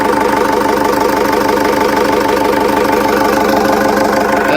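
The new engine of a 4x4 Mercedes Sprinter van idles loudly and close by, a steady rhythmic diesel chug with a constant throb and no break.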